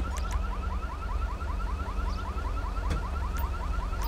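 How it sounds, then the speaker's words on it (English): A car alarm in the police game GTA V with the LSPDFR mod whoops in a rapid repeating siren pattern, steady and moderately loud over a low engine-like rumble. "That confirms my theory about the car alarm."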